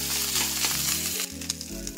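In a pan, rice for Assamese khar bhat fries with a gentle, continuous sizzle and a few light stirring scrapes, over a steady tonal background drone.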